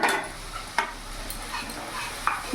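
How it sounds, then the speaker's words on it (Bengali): Ginger-garlic-chili paste and green chili paste frying and being stirred in a pan, a low continuous sizzle broken by a few sharp scraping strokes of the spoon, with no voices. "ভালো করে নাড়াচাড়া করে নেব।"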